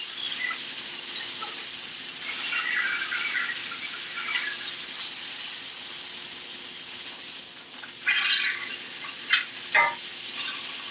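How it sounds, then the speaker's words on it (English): Meat sears in a hot pan with a steady, close sizzle and hiss, broken by a few sharper crackles and pops toward the end. "We need to go ahead and sear a little bit of a crust into this portion here in the middle."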